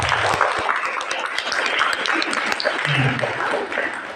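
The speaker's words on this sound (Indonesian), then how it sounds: "Tepuk tangan buat anak-anak." An audience claps for children at a poetry-reading session, a dense, close burst of applause with voices mixed in underneath.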